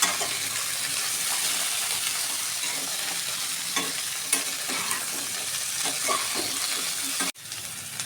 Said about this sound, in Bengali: যখন একটু সব কিছু ভাজা ভাজা হয়ে আসছে তখন আমি উচ্ছেটা এর মধ্যে অ্যাড করব।